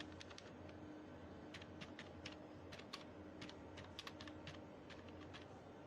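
Bengali text is typed on a computer keyboard in a computer shop: quiet, rapid keystrokes in irregular bursts over a soft room hiss, with no talking.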